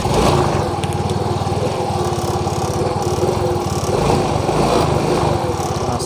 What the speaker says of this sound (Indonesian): Nah, sekarang motornya di sini sudah hidup ya.